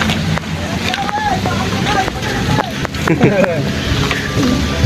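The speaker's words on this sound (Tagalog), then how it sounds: "Sobrang lakas ng hangin dito, guys." Steady, loud wind buffeting the microphone in a continuous roar, with voices talking faintly underneath.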